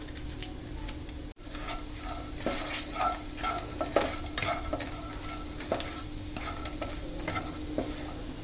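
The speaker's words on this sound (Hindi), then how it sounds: "और इनको अब हम भूनेंगे।" Dry fruits roasting in ghee for sweet vermicelli, with steady close sizzling and repeated scraping stir strokes and spoon taps against the pan, continuous with no voices.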